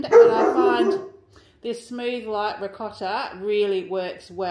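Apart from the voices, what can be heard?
dogs barking in the background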